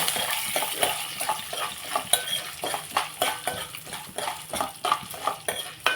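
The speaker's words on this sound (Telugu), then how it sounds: "మినపప్పు కొంచెం వేసి దీనిలాగా ఫ్రై చేస్తున్నారు అన్నమాట" Urad dal fries in oil in a pan for a Hyderabad hotel-style idli chutney tempering, with a soft steady sizzle under repeated scraping and stirring clinks of a metal spoon against the pan.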